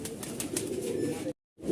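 Malwai Punjabi and Madrasi pigeons coo at close range, a continuous low murmur of overlapping calls with faint wing flutters, briefly cutting to silence near the end before resuming.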